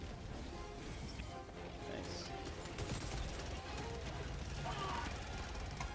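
Turret gunfire in the video game Helldivers 2 rattles steadily under a busy battle mix, with a voice talking over the shooting and crashes throughout.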